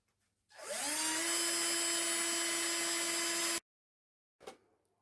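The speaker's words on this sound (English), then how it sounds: "I just need to tighten the screws that will hold it in place" A power drill drives screws to fix a motor switch beneath a machine, a steady high whine running about three seconds before stopping abruptly, then a brief second burst, close and loud.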